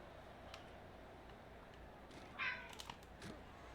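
A cat gives a single short meow, quiet and fairly close, over a soft background hum with a few faint ticks around it.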